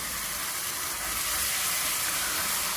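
Chopped onion, green chilli and ginger-garlic paste sauté in hot oil in a pan, giving a steady, bright sizzle that holds evenly throughout with no voices.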